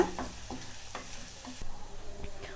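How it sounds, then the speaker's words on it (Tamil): Sliced onions fry on high flame for clay pot chicken biryani, a faint steady sizzle broken by a few soft scrapes of a spoon stirring through the pan. "ஒரு 10 நிமிஷம் விடாமல் நல்லா வணக்கி விட்டுக்கோங்க. ஹை ஃப்ளேம்லேயே வச்சுக்கோங்க"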